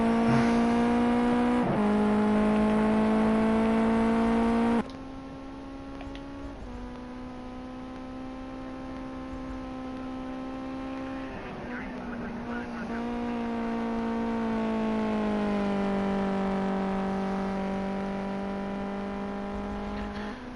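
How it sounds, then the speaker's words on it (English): Onboard a race car lapping Donington Park National in practice, the engine drones loudly and steadily, with rising and falling revs through gear changes, a brief lift around the midpoint and a sustained high pull afterward. "So Cougar's just doing some practice laps, so we'll go in car with him as he goes round."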